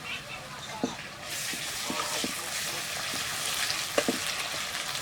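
Ginger paste, garlic paste and slit green chillies sizzle with browned onion in a pan, a steady hiss that rises once they go in, with scraping stirs at intervals.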